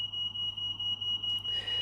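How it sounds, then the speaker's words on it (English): A high, piercing electronic alarm tone rings steadily and without break, with a low hum underneath and a faint burst of other noise near the end, and nobody talks. "They set off the bloody alarm again."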